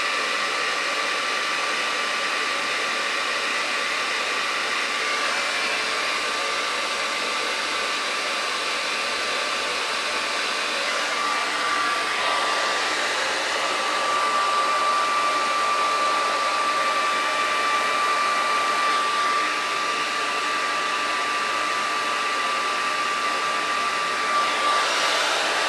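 A handheld hair dryer blows hair steadily in a bathroom, a loud continuous whooshing roar that runs unbroken throughout with slight shifts in pitch as it moves, with no voices.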